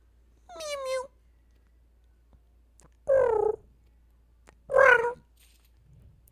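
A cat minion in Final Fantasy XIV gives three separate bright, wavering meows, spaced a couple of seconds apart against near silence, the last one loudest.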